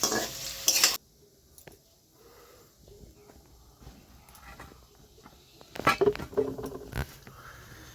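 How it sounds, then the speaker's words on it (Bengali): Potatoes frying in a pan, with soft intermittent scrapes and clinks of stirring over a faint sizzle, close and quiet, plus a louder clatter at the start and again near the end. "আলুগুলো লাল লাল করে ভেজে নিচ্ছি।"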